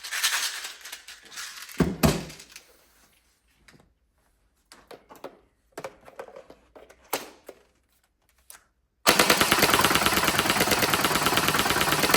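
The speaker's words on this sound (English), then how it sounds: "But I'll fill this drum mag up again and we'll give it another blast." A Tokyo Marui SGR-12 airsoft gun fed from a drum magazine lets off a loud, continuous rapid-fire burst near the end, after several seconds of quiet, scattered handling clicks.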